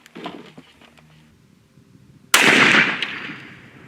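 A single sharp blast from a Hankins custom smokeless powder muzzleloader at a 100-yard range, sudden and loud with a short rumbling decay, preceded by quiet handling noises.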